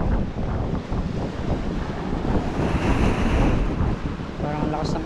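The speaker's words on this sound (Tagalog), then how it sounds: "Parang ang lakas ng alon dito." Strong ocean waves crash at a beach resort in Bolinao, a dense, continuous roar of surf buffeted by heavy wind noise on the microphone, loud throughout with no clear break.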